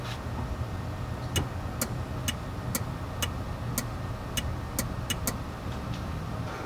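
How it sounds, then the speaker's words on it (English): Relay inside a car's rear trunk release circuit on a Mazda MX-5, clicking in a series of about a dozen sharp, brief ticks at irregular intervals over a steady low hum, fairly close and alone with no talk. "The goal is we need to hear a click from the relay."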